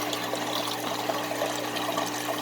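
Water pouring and trickling steadily through a DIY overhead aquarium filter, a continuous close splashing flow with no talk.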